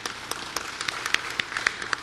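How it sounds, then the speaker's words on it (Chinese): Applause in a Kaohsiung city council chamber welcoming a visiting group of about two hundred residents in the public gallery, a steady patter of clapping with a few sharper claps standing out. "是不是请现场的局处首长用热烈的掌声欢迎他们"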